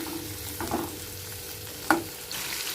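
Mushrooms stir-frying in a pan with green chillies and curry leaves: a soft sizzle underlies a few scraping stirs and one sharper clack of a spatula against the pan, close and fairly quiet.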